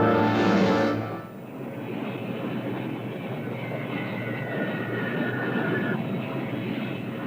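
Airplane arriving at an airport, a steady broad engine roar held close and fairly loud, with a brief higher whine at the start and no talk.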